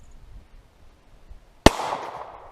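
A single sharp gunshot from a .45 fired at about 12 yards at a Swiss M1971 steel army helmet, loud and sudden after near silence, with a brief ringing tail.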